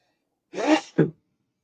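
A single person sneezes once, close by in a quiet room: a sharp intake followed by a short, abrupt burst.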